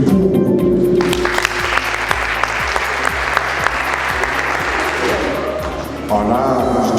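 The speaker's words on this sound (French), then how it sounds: "Et je vous invite à applaudir pour l'équipe du pour." An audience at a school debate competition breaks into loud applause for the team arguing in favour, dense clapping rising over a voice and continuing, with rhythmic beats and a shift in tone near the end.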